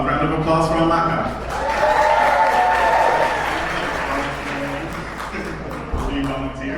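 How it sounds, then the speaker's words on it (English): A live hip-hop opera crowd claps for a volunteer, steady applause mixed with cheering and whoops that swells and then eases off, while people talk and call out over it. "Round of applause for Amaka."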